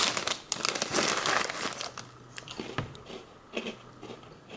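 Crunchy Mr. Christie cacao cookies are bitten and chewed close up, with loud crackling crunches and crinkling at first that settle into quieter, intermittent chewing; no one speaks.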